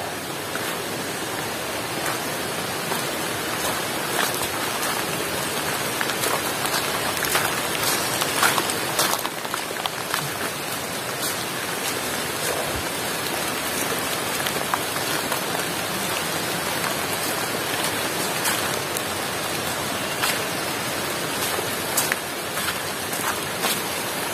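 Steady light rain patters on leaves and surfaces in a Sumatran rainforest, a constant hiss of drops with no voices, even and unbroken throughout.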